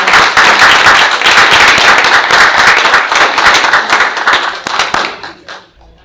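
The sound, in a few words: audience applause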